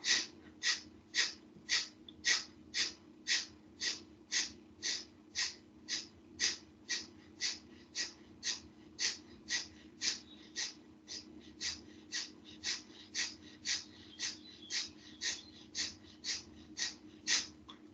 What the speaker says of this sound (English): Breathe in and exhale.